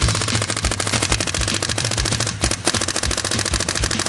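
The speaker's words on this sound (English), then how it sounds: "you got straight full auto, just hold it down and shoot as fast as you set it to" Virtue paintball board marker firing in uncapped full auto, a rapid, even stream of sharp loud shots for about four seconds with one brief stutter near the middle.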